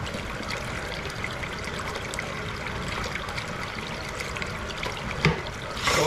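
Water runs steadily through a freshly cleared, previously clogged drain, making a continuous close trickling rush with no break and no voices.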